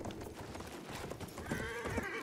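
Horse hooves clip-clop in the World War I shooter Battlefield 1, a steady clatter of hoofbeats mixed into busy battlefield game noise, with a rising whine near the end.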